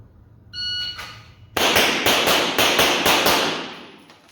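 A short electronic beep, then a rapid string of about six sharp handgun shots fired at a target during range training, close and loud, with no talking.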